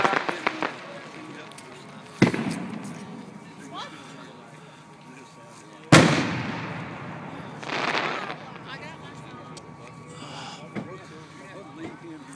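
Fireworks and explosives going off at a distance in an outdoor fireworks show, with sharp booms near the 2 and 6 second marks followed by rumbling decay and crackling, a few quieter pops, and people talking in the background.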